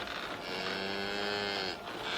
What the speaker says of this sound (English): Have you fed the cows and sheep yet, Shem?